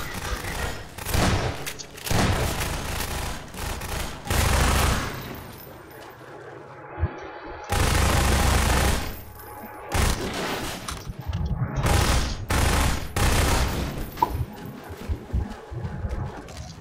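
Gunfire in the game Garry's Mod, repeated bursts of rapid shots and booms in separate clusters with quieter gaps between them.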